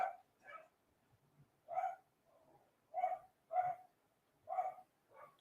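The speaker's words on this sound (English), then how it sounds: "Somebody's delivering something out in the front, and so the dog's going ape." A dog barks at a delivery out front, a string of about seven sharp woofs in an uneven rhythm, heard at a moderate distance with no talk.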